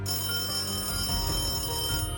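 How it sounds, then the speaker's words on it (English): A telephone rings with a steady electronic tone, loud and close, alongside low rumbling noise. "his phone was ringing"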